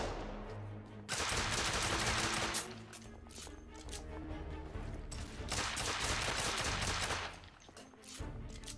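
Bursts of rapid gunfire in The Order: 1886, loud sustained volleys broken by short lulls, with no talk over them.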